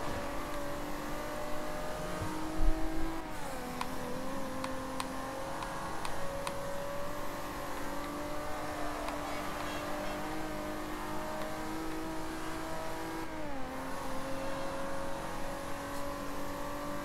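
A sports car engine in the Forza Horizon 2 racing game revs and holds a steady high drone while racing. The pitch dips and climbs again at gear shifts, with a brief thump early on, loud and continuous with no talk.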